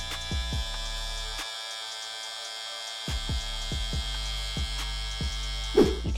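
Electric hair clippers hum steadily while being tapped lightly against the head in short repeated touches during a blurry fade haircut, with a brief pause in the tapping partway through.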